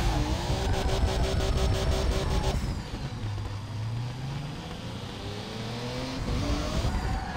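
A car drifting in the Russian Drift Series racing game, driven with a 900° wheel: loud continuous engine revving with shifting pitch throughout, a sharp change partway as the engine note drops and wavers, no voices.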